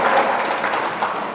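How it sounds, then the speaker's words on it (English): A brief burst of audience applause during a sales seminar, a short dense wash of clapping in a room lasting just over a second. "let's give another round of applause for this."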